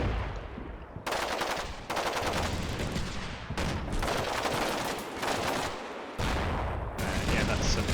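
Gunfire in the video game Combat Mission Shock Force 2, loud bursts of machine-gun fire and rifle shots in rapid, overlapping volleys separated by short gaps.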